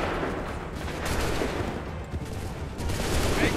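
Musket volleys fired by soldiers in the Assassin's Creed 3 Lexington battle, a dense continuous crackle of overlapping gunfire that swells and rolls for the whole stretch, with no single shot standing out.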